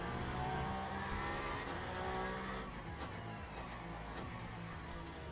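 A hypercar engine screams and shifts through gears while racing at Imola in the Le Mans Ultimate sim game, a continuous loud drone with revving rises and faint tire noise, without talk.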